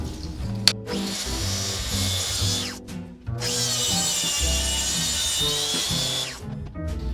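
A track saw runs along a Makita guide track, cutting a long sheet-goods panel for a wheeled storage cart, with a loud steady whine under the blade and a short pause midway before the motor spins back up for the rest of the cut.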